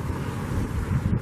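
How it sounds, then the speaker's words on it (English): Strong wind buffets the microphone at a stadium construction site, a steady roaring rush with no gaps over the short stretch. "It's pretty windy"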